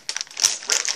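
Toy packaging for a mini Jurassic World Fallen Kingdom dinosaur torn open by hand, giving a short burst of close crinkling and crackling plastic and paper over about a second.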